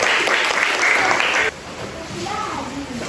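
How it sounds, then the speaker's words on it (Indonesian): Students and an audience in a classroom applaud a student group after its presentation; loud clapping lasts about a second and a half, then drops abruptly to quieter room noise with voices talking. "Berikan tepuk tangan untuk kelompok 1."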